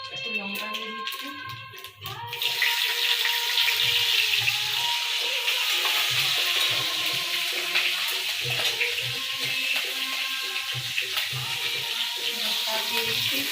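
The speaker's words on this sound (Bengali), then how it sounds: "শাকটা ভাজবো, তার জন্য একটু কালো জিরে দিয়েছি তেলের উপর।" Nigella seeds and chilli fry in hot oil for a vegetarian greens dish, a loud steady sizzle that bursts up after a short quieter start, with faint clinks and a voice talking underneath.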